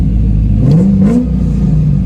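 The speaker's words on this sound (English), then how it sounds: "Gave it a little Vin Diesel rev." Corvette C5 engine idling in neutral, then given a quick rev that climbs and falls back to a steady, loud, close idle rumble.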